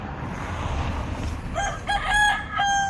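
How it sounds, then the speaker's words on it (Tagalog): Rooster crowing nearby outdoors, one long strident crow with a couple of breaks rising over a low rumbling background of traffic or crowd noise. "dinig na dinig yung manok"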